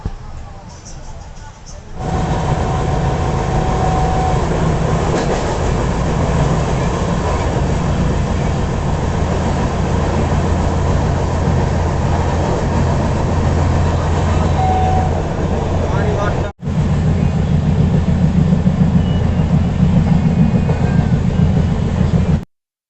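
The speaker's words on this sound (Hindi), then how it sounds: "तो डिपार्चर हो चुका हमारा विशाखापट्टनम स्टेशन से।" The Andhra Pradesh Express pulls out of Visakhapatnam station with a steady, loud rumble of wheels and carriage noise that runs continuously, broken once by a brief dropout near the end.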